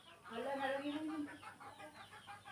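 A chicken clucks at a household in a run of rising, warbling calls close by, loud at first and then fading into softer repeated clucks.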